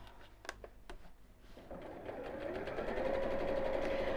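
A sewing machine stitches fabric on a countertop during a live half-yard sewing session. After a few soft clicks the motor runs up to a steady, fairly loud whirring hum that holds continuously to the end, with no talk.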